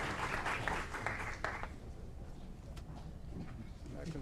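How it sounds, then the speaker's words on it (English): Brief applause from attendees at a city council meeting for city staff members, a short burst of clapping in the first second and a half that quickly fades to faint scattered claps over room noise. "Big round of applause for the City of Aurora staff members."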